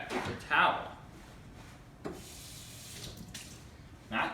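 Tap water runs briefly onto a paper towel in a kitchen while baking banana bread, in short splashy bursts between quieter stretches, with a voice talking throughout.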